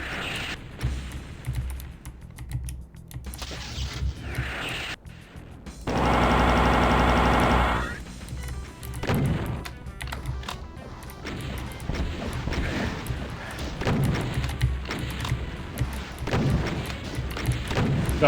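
BFG weapon fire in the Doom Genesis game, a loud sustained roaring blast of about two seconds followed by scattered crashes and impacts from the fighting.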